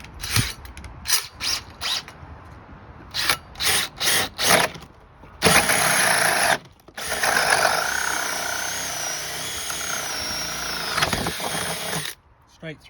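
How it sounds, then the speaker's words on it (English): A power drill fitted with a Pro Fit hole saw bores through a wet length of 3x2 timber, starting with short stuttering bursts, then a sustained close whining cut of several seconds that stops abruptly, with speech around it. "I've already drilled a couple of holes in this wet bit of 3x2 and it flies through"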